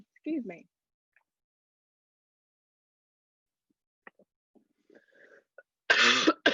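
A woman gives a single loud, harsh cough near the end, close to the microphone, after stretches of near silence broken by brief bits of her speech and small noises.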